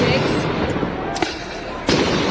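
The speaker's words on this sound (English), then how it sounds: "Those flashbangs continue" Flashbang grenades go off in Florida, with sharp bangs sounding over a dense, noisy rumble that fills the background.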